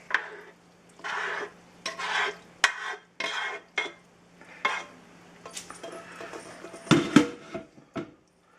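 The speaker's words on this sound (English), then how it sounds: "I've got a lightly greased casserole dish here, so we're gonna transfer our macaroni and cheese" A spoon scrapes and plops macaroni and cheese with chorizo into a lightly greased casserole dish, giving irregular close scoops and clinks with short pauses, no talk.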